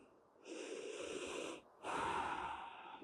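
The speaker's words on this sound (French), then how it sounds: "Prenez une bonne respiration ici." A yoga practitioner in a slow floor pose takes two long, deep, audible breaths close by, one drawn in and one released with a brief pause between, with no talking.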